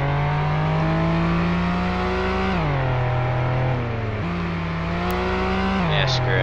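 A car engine in the Flashing Lights video game droning steadily at high speed, shifting gears with drops and rises in pitch, loud and continuous with a voice talking over it.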